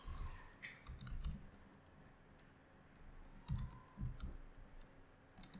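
A computer mouse button is clicked a few times at close range, giving soft, quiet, irregular clicks over a faint room background, with no voices.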